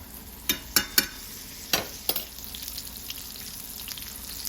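Steak searing in a skillet while being basted, giving a soft steady sizzle with several sharp spoon clatters and splashes early on that then settle into quieter frying. Nobody speaks.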